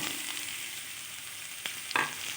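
Onions and garlic fry in a pan until light brown, a soft, steady hiss with a couple of brief clinks or stirring scrapes; no voices.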